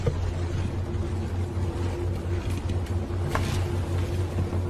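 Motorboat engine at sea running with a steady low rumble and constant hum, close and continuous, with wind and water noise over it and no talk.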